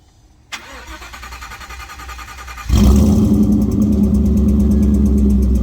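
A starter whirs briefly, then the 5.0L Coyote V8 of a Factory Five 1933 Ford roadster hot rod catches and roars to life, settling into a loud, lumpy idle up close.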